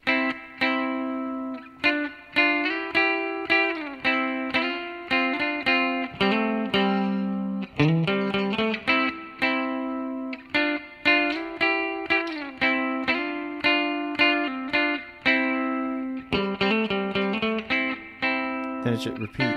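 An electric guitar with a processed, slightly distorted tone plays the outro riff of a song, quick picked notes cycling through the same phrase twice with no talking.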